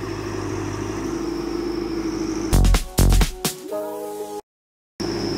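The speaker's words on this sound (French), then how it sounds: "il va l'emmener à la fumière qui est juste au coin" A farm tractor with a loader bucket hauls manure to a nearby manure pile. Its engine drones steadily up close, followed by a few loud clunks and rattles and a brief dropout of sound.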